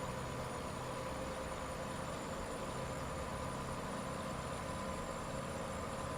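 Modded truck engine idling in American Truck Simulator, a steady low rumble with a constant high whine, unchanging and even throughout, with no voices.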